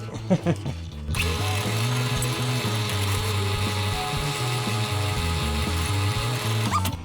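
After a few clicks, a power drill with a 5/16-inch metal bit whirs steadily at close range, its motor pitch wavering slightly as it bites into metal, then stops.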